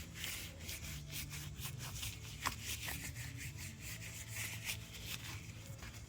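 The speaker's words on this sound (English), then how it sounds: "we are going to wipe the storage grease off of this thing here." A rag rubs and wipes storage grease off a part from a VW 1200cc 40hp engine during a rebuild. The strokes are quiet, close and repeated in a soft, rhythmic scrubbing with no talking.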